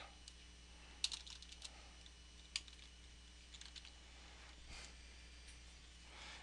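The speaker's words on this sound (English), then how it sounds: "I'm going to type in home." Typing on a computer keyboard while entering a word with a text tool in Photoshop: a few quick, sharp key clicks in short bursts, close and fairly faint, over a steady low hum with no talk.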